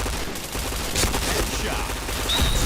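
Rapid gunshots in a mobile shooter video game, a steady stream of crackling shots under game noise.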